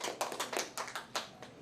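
An audience claps in a room, a brief, scattered patter of hands with a handful of distinct claps over under two seconds, fairly quiet and heard from a distance.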